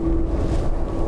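Strong wind roars at Dublin Airport, a loud, steady rush buffeting the microphone for about a second with a faint tone beneath and no talk.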